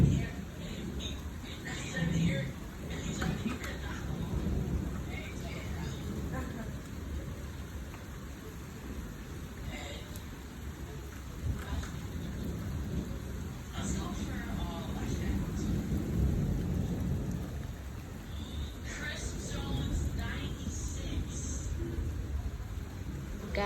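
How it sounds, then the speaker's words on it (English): Thunder rumbles low and steady through a storm with rain, a muffled rolling roar that persists under a person talking nearby. "The thunder's still rolling."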